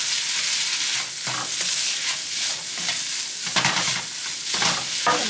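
Shrimp pad thai stir-frying in a pan with chives being added, a loud, steady, close sizzle with scraping and tossing noises from stirring throughout, no talking.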